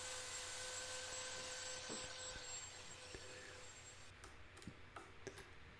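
A cherry burl bowl is sanded on the lathe through progressive grits up to 320, making a steady broad hiss with faint ticking over the spinning wood. The sound eases slightly toward the end.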